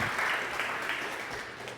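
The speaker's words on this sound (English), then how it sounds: "you all give applause to Bob." A crowd claps steadily, a dense patter of many hands, loud and close, holding through to the end.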